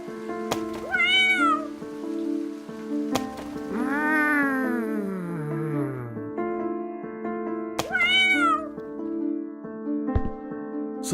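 Cats meow while stones are thrown at them, with several drawn-out, wavering cries repeating near and loud over a continuous musical background, broken by sharp thuds.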